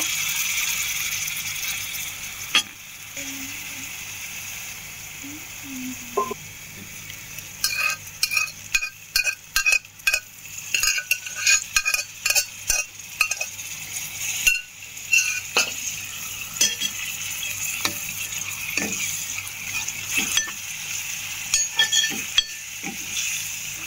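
A spoon stirring a potato and cluster bean curry in a pan, with bursts of rhythmic scraping and clinking against the metal over a low background sizzle, close and fairly loud, no talking.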